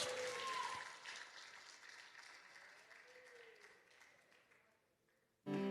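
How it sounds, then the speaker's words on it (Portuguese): Church congregation clapping hard at a worship service, a dense crowd of applause that slowly thins and fades over several seconds before a sudden loud burst at the very end. "Bate as palmas bem forte para Jesus"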